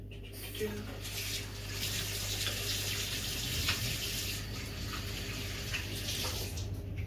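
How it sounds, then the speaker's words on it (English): Hands are washed under a running tap: a steady, fairly quiet hiss of water flows throughout, with faint rubbing and a brief knock near the start. "Washing our hands again."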